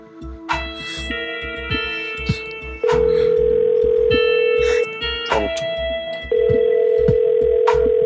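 Telephone ringback tone repeating unanswered, long steady tones alternating with pauses, loud and close, with other tonal layers and some talk-like sounds between rings.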